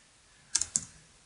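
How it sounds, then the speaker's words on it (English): A few quick keystrokes on a computer keyboard, a short burst of three sharp clicks close by in an otherwise quiet room. "I'm typing it wrong"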